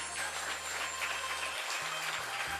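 An audience at a Hindu religious discourse claps in sustained, dense applause, steady and fairly loud throughout, with low musical drones and tones underneath.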